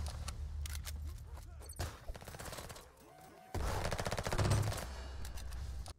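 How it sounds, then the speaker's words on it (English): Tech 9 submachine gun fire in the browser shooter Venge.io: rapid bursts of automatic shots crackle in quick strings, with brief pauses between bursts and a heavier, denser volley near the end, fairly quiet overall with some faint background game sounds. "Tech 9, yeah, the only SMG in Venge which actually holds good, both for damage as well as fire rate"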